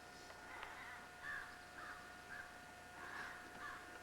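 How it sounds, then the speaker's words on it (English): Several crows caw by a river in Maine, heard as short separated calls at moderate distance over a steady outdoor background hum, with no talking. "And those crows are having a ball, aren't they?"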